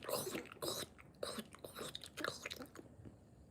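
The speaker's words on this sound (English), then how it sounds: "do y'all want to hear me chewing?" Someone chews food close to the mic, with repeated wet, crunchy bites in an irregular rhythm before it trails off into quiet.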